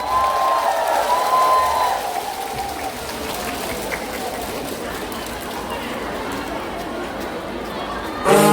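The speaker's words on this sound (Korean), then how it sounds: "큰 박수 부탁드립니다." Audience applause and crowd chatter at an outdoor concert during a medical expo in Jangheung, a steady mass of clapping with voices mixed in, swelling at the start and again briefly at the end.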